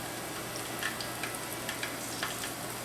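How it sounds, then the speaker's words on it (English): Chicken pieces fry in hot oil in a skillet for Southern fried chicken, a soft, steady sizzle with faint crackles and small pops scattered throughout, no talking. "Yes, see the sizzle."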